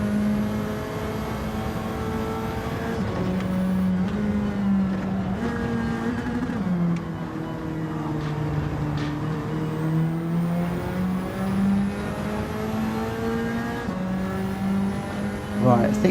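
A Volkswagen Scirocco race car engine in Gran Turismo 7 drones steadily, its pitch sliding up and down through gear changes over a continuous loud hum, with faint engine layers from other cars behind it.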